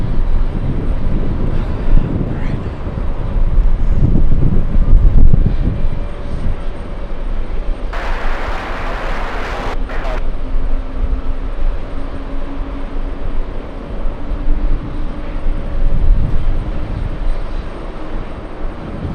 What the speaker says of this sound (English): Big one. Emirates on final.